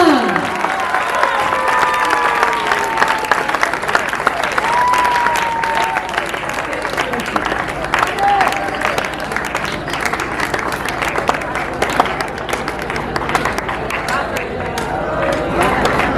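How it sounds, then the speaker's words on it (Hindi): An audience keeps up loud, continuous clapping for teachers at a Teachers' Day celebration, a dense rattle of hands with faint crowd noise and occasional whistling tones underneath. "अपने गुरुजन के लिए जोरदार तालियां।"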